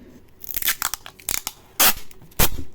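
Adhesive tape is pulled and torn off in several short ripping bursts, the last two loud and close, with small crinkly sounds between them, as it is used to fix something to a book.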